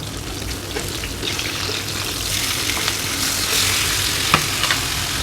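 Chicken pieces for chicken mandi deep-frying in hot oil, a continuous close crackling sizzle with scattered pops and faint stirring clatter, no talk.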